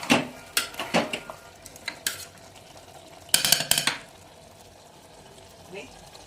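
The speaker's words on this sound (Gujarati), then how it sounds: "એકવાર મિક્સ કરી" A spoon scrapes and clatters against a pot while green onion and potato curry is mixed in masala, several sharp metallic strokes in quick bursts with quiet pauses between them.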